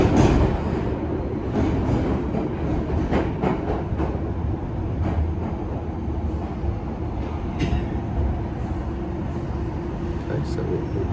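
A London Underground Piccadilly line train runs with a steady, loud rumble and rattling wheel noise throughout, with voices talking over it.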